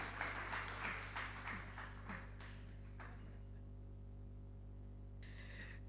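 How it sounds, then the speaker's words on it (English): An audience at a youth empowerment summit claps in a brief, fairly faint burst that tapers off after a few seconds, leaving a steady electrical hum and room quiet. "Give her a round of applause."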